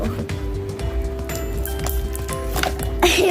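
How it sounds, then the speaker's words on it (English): Green homemade slime made with Elmer's Magical Liquid makes rapid, bubbly squelching and wet clicking as it is handled. The sound is close and continuous, with faint voices in the background. "It sounds like bubbles."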